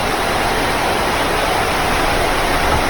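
Heavy rain pours down at a night campsite during a thunderstorm, a loud, dense, unbroken hiss that fills the whole moment with no pauses.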